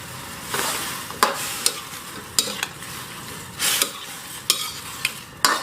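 Straw mushrooms are stirred in a pan over a steady wet sizzle, with sharp spoon-on-metal clicks recurring every second or so; no voices.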